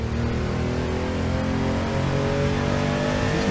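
A Porsche 911 993 Turbo revving and accelerating in the Assetto Corsa racing game, a loud continuous engine roar with rising and falling pitch, alone with no talk.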